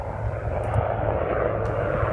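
A military helicopter flies past Fort Rosecrans National Cemetery in San Diego. Its engine gives a steady, moderately loud drone throughout, with no voices over it.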